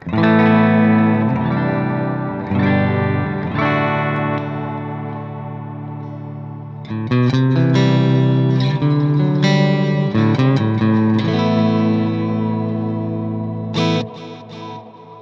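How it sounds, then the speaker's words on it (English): Clean electric guitar chords and notes ring out through a Verbera reverb pedal with lush reverb, each strum trailing into a long, shimmering decay. "Those reverbs are quite specific and it's loaded up with lots of different presets."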